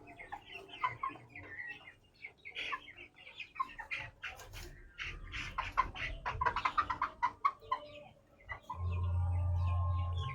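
A flock of chickens with young chicks clucks and peeps in a busy, overlapping chorus up close. A low steady hum rises in the final seconds.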